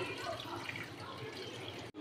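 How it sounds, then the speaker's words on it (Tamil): Water is poured over a large lemon-sized lump of tamarind to soak it, giving a steady, close splashing pour that stops abruptly at the end. "தண்ணி ஊற்றி ஒரு 10 நிமிஷம் ஊற வச்சு எடுத்துக்கலாம்"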